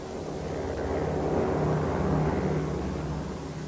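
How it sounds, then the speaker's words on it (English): A supply plane drones overhead in wartime jungle mountains, a steady low engine hum that swells slightly toward the middle and eases off, heard alone without speech. "If that was a supply plane"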